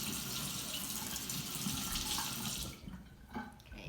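A little water runs from a kitchen tap to wet the rim of a punch glass, a steady close splashing flow that stops abruptly near the end, leaving faint trickles and light handling sounds.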